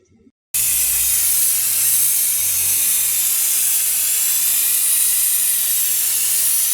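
A steady, loud hiss of Cristanini SX34 decontamination spray onto a Smiths Detection detector starts abruptly after a brief quiet moment and continues without a break, broad and airy with a faint low rumble beneath.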